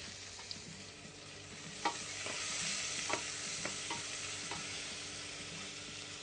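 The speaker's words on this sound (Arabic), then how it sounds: "صبينا الزيت وباش نحطوا فيه شوية بصل" Onion frying in oil with a steady sizzle throughout and several sharp stirring clacks of a utensil against the pot, close and fairly quiet, with no one speaking.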